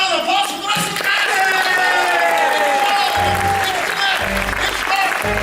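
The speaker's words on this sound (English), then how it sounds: "Let's have a big round of applause for the rest of the cast!" Sustained applause from a theme-park show audience at Disney World greeting the rest of the cast, a loud dense wash of clapping with cheering voices and occasional low thumps throughout.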